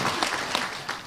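An audience gives a short, lively burst of applause, with close, dense clapping that stays loud through the moment before quickly tapering off.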